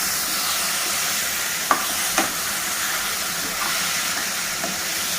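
Tomato chicken curry stirred in a pan, a steady loud sizzle and hiss with a few sharp clinks of the spoon against the pan, no voices.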